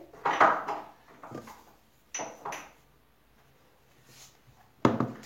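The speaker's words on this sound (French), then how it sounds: "Je mélange tout ça" Utensil scraping and clinking against a bowl while gratin ingredients are mixed, a few separate bursts of stirring with quiet gaps between, close and moderately loud.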